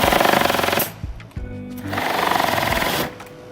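An Aimco transducerized pneumatic screwdriver runs in two loud, steady bursts of buzzing, rapid mechanical chatter, separated by a brief pause with a few clicks and a softer tonal hum.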